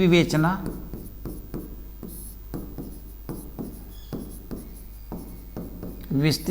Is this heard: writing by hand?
yes